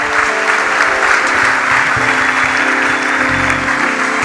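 A church congregation at a worship service claps together in a dense, sustained round of applause that fills the room, loud and even from start to finish.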